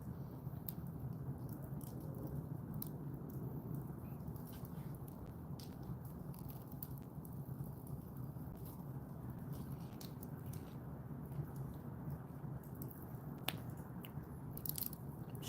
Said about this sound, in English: Sorry if you hear me chewing.